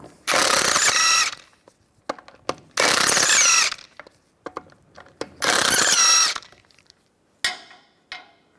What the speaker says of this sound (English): Use a 17mm socket. Take the lug bolts out.